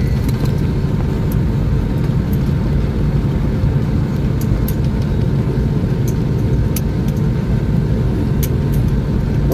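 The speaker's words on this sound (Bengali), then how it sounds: "কত স্পিডে যাচ্ছে। এখন একটু স্পিড কমে গেছে কারণ ফ্লাইটটা টার্নিং নেবে।" An airliner taxis and slows to turn at Rajiv Gandhi International Airport in Hyderabad, giving a steady loud low engine rumble and whine with faint ticking, heard from inside the cabin without any speech.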